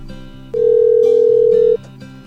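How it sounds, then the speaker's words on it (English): A cordless telephone rings with a single loud, steady electronic tone lasting over a second, standing out sharply over a quieter hum of background sounds before and after. "Now the phone's just ringing over and over."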